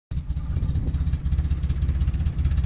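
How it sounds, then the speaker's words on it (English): A 1973 Datsun 240Z engine idles roughly, as if running on three cylinders, close and loud with an uneven, lumpy pulsing throb that keeps stumbling for a few seconds. "running really rough. It almost feels like it's running on like three cylinders"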